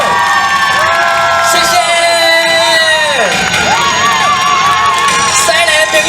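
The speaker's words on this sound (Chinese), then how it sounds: "来，掌声加尖叫" Large outdoor concert crowd at a Yunlin riverside bridge festival screams, whoops and cheers continuously as a Taiwanese singer is welcomed on stage, loud and dense with high shrieks rising and falling throughout.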